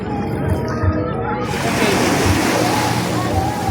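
Strong ocean waves at Nasugbu beach in Batangas, a loud continuous roar of surf that swells into a broad crashing rush midway through, with voices talking over it.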